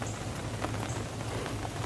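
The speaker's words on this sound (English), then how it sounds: "It's starting to rain." Light rain begins falling outdoors beside a lake, a soft steady patter of drops on surfaces with no voices, faint and even throughout.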